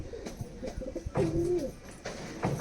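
Pigeons coo nearby in soft, throaty rolling calls, with a rustle of movement around them and no talking.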